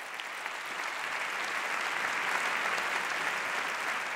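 An audience at a televised awards gala in Navarra breaks into sustained applause, dense and even clapping filling the hall with no voices over it.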